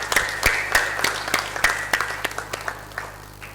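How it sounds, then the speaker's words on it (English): Audience applause at a mental health awareness summit: crisp, distinct claps from a modest crowd, loud at first and gradually thinning and fading out. "give a round of applause for her initiative"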